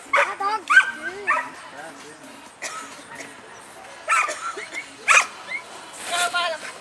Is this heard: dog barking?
yes